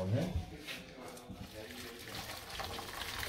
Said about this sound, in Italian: vado a scolare il limone